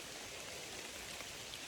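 Rain falls steadily on Kentucky woodland during a hunt, a dense, even hiss of drops with no breaks and no voices.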